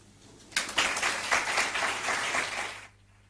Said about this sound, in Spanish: Pues que sirvan estos aplausos